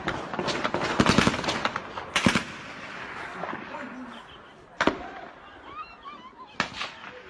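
Several sharp gunshots crack out in a land dispute, a quick burst early followed by single shots spaced a few seconds apart, heard outdoors amid shouting voices and commotion.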